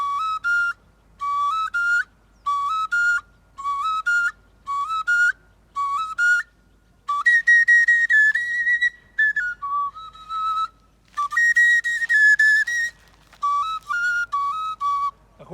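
An oja, a traditional wooden flute, plays short phrases of shrill, whistle-like notes in repeated bursts with brief pauses between, then longer runs combining several pitches, heard clearly and alone.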